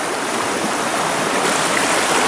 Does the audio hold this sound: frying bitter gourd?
no